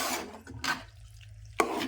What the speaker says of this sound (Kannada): ಕೊಬ್ಬರಿ ಪೇಸ್ಟು, ಉಳ್ಳಾಗಡ್ಡಿ ಪೇಸ್ಟು ಮತ್ತು ಕೊತ್ತಂಬರಿ ಪುದೀನ ಪೇಸ್ಟ್ ಇದಿಷ್ಟು ಹಾಕ್ಕೊಂಡು ಇವಾಗ ತಿರುವಾಗ್ರಿ